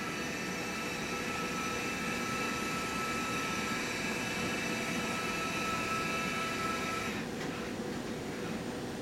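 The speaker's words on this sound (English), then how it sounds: "We're going to tilt the table around to 90 degrees off the center." A motorized medical imaging table tilts in a scanner room, a steady mechanical drone with a faint whine running continuously, then changing slightly near the end as the motion stops.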